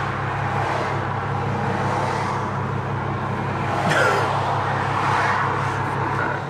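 A 700HP BMW 335i with a freshly redialed tune idles in a steady, moderate drone, a low engine hum with a brief brighter swell partway through.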